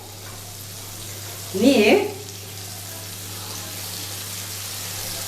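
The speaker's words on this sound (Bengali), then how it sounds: "এবার আমি আদার সাথে এটা ভালোভাবে আমি একটু ভেজে নেব।" Prawns fry with ginger in a hot pan, a brief loud sizzling burst as they hit the oil, then a steady low crackle. A voice speaks over it.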